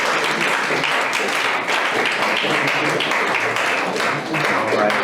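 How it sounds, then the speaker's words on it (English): A school audience gives loud, continuous applause, many hands clapping in a dense wash with faint voices mixed in, steady for several seconds with a short dip near the end. "feel free, clap for them, please"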